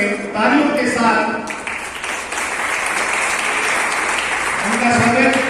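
Audience applause welcoming a guest at an evening literary program honoring a senior writer, a dense, steady clapping that holds throughout with voices talking faintly underneath.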